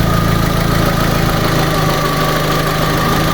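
A Fiat 500 with a repaired head gasket idling, a steady close low engine drone with a fine rhythmic pulse and light vibration, continuous and even with no voices.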